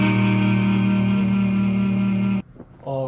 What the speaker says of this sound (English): Squidward mode, the clarinet